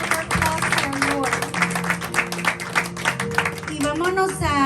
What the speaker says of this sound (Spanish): big round of applause to our Lord.